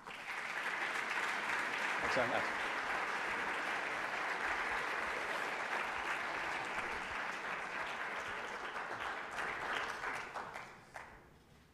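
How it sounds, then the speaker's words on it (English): A lecture audience gives a sustained round of applause to welcome the evening's speaker. The clapping is dense and steady for about ten seconds, then thins out as someone briefly speaks his thanks near the end. "I hope that you will join me in offering him a robust round of applause to welcome him here."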